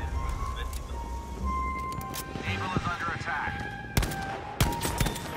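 Gunfire in the Battlefield V first-person shooter game, several sharp shots and short bursts ringing out amid battle noise, with a player's voice talking over them.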